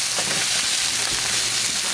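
Onions and a burger sizzling on a hot grill, a steady dense frying hiss with faint scraping as they are moved around.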